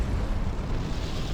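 Carpet bombing and artillery fire in a real-time strategy game erupt as a dense, continuous rumble of overlapping explosions, heavy and booming throughout.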